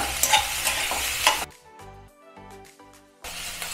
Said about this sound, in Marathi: कांदासुद्धा तेलावर छान परतून घ्यायचा आहे.